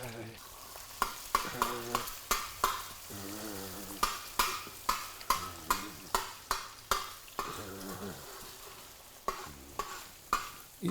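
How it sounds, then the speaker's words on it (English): An egg frying in a pan for Chinese-style fried rice, with a rhythmic run of sharp spatula scrapes and taps against the pan over a low sizzle, close and repeated about once a second. "You fry your egg first"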